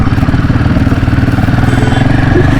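A Royal Enfield Himalayan 450 motorcycle with 3700 km on the odometer, its engine running loud and close with a steady throbbing pulse, as if idling or pulling away on a ride.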